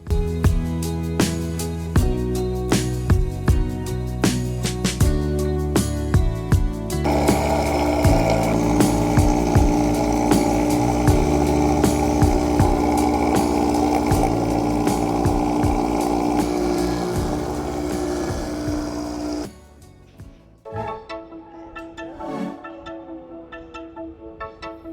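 A juicer grinds cacao nibs into chocolate, a loud, dense mechanical whir with steady droning tones and clicking, holding strong for about twenty seconds before dropping to a quieter rattling.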